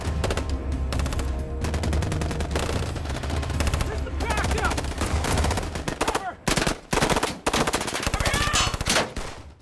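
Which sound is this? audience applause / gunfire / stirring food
gunfire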